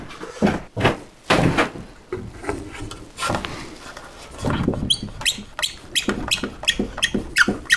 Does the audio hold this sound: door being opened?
yes